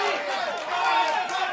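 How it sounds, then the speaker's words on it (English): A spectator crowd at a women's over-60 World Cup hockey match in Cape Town, South Africa v Netherlands, cheers and chants for South Africa in a sustained, moderately loud roar. "the crowd encouraging South Africa to keep going."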